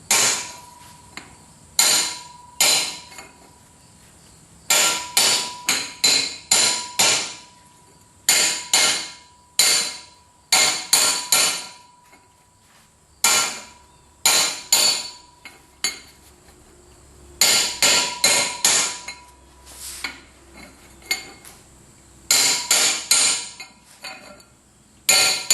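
Sharp metallic hammer blows ring out in quick clusters of several strikes separated by pauses, driving a bearing into a New Holland 630 baler through a length of 4-inch pipe set against the flange, loud and close.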